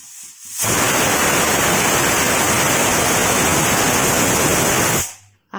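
Pressure cooker cooking soaked chickpeas and peas lets out a loud, continuous hissing whistle of steam for about four seconds, starting and stopping abruptly, with no talking over it.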